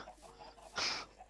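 Chickens cluck in the video game Minecraft, a short burst of fowl noise rising briefly over quiet background sounds.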